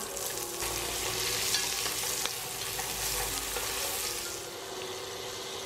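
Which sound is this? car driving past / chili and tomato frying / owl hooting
chili and tomato frying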